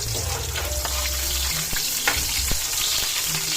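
Garlic and onion sautéing in a hot pan for a bottle gourd and noodle dish: loud, steady close sizzling with occasional stirring scrapes, and no talking.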